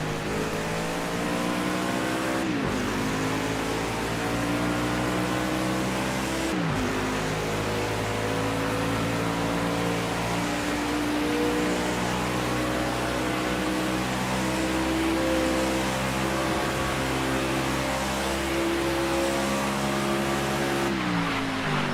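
Race cars roaring around the Daytona road course in a Project Cars 2 blizzard, a continuous loud engine drone with rising pitch through gear changes and brief drops at shifts, close and steady.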